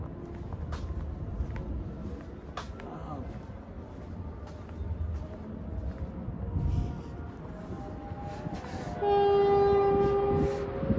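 A train passes at night near the Lotus Tower in Sri Lanka, a rumbling clatter building up before a loud sustained horn blast near the end, with people talking throughout.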